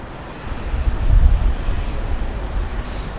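Loud rushing water roars steadily with a rumbling low-end surge that swells and eases, accompanied by gusty wind-like noise and no voices.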